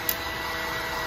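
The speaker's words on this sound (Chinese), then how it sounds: "清完用那个吹风机" Hair dryer blowing air inside a powder dosing machine to dry it after washing, a steady, loud, even whoosh that holds unchanged after a brief click at the start.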